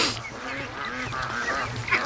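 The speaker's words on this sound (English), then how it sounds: "Oh, the goose." A goose honks repeatedly inside a barn, a close, nasal run of overlapping calls in a steady, busy rhythm that lasts through the whole stretch, with no talking.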